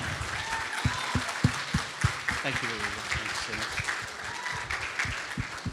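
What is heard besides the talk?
applause for someone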